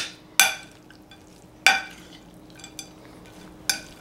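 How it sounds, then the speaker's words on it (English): Brussels sprouts and bacon being stirred together in a pan, with three sharp scraping clinks of a utensil against the cookware spaced a second or two apart over quiet background. "I'm just gonna go ahead and mix it all."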